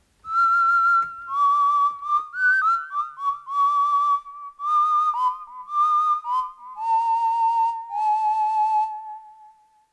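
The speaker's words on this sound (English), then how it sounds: "So this is the whistle sound and here's what it sounds like." A clear, sustained whistle tone from a Behringer Neutron synthesizer sliding between pitches in a series of held notes, loud and close, with no voices.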